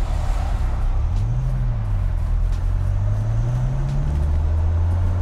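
A 1995 Dodge Viper RT/10 V10 sports car engine drones from inside the cabin, its low pitch rising and falling as the car is driven at moderate speed through first and second gear.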